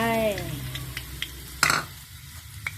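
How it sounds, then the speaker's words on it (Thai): Garlic drops into hot oil in a wok for a stir-fry of beans with minced pork, setting off a bright sizzle, then spatula scrapes and taps and one loud clatter, with a voice heard briefly at the start. "น้ำมันร้อนแล้วกระเทียมลงไป"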